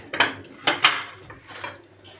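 Turnip pieces dropped into a dish while making mixed pickles, giving a few sharp clattering knocks against the dish followed by softer shuffling sounds, close and clear.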